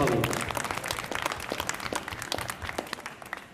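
Audience applause at an auto-entrepreneurs' forum, a burst of crowd clapping that starts fairly full and gradually thins into scattered claps.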